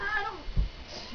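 A single short cat meow, a pet kitten called a demon kitty, sounds close and brief over faint room noise.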